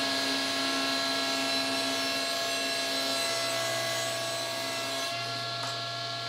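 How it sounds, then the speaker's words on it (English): A power sander works steadily at the corners of a wooden box to take off burn marks, giving a continuous close whining hum that changes pitch slightly partway through. "then I'm sanding off the nasty burn marks that leaves behind"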